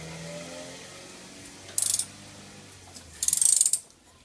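A Subaru DOHC engine being turned over by hand with a wrench, giving two short bursts of ratcheting clicks, the second longer, close up over a quiet workshop background.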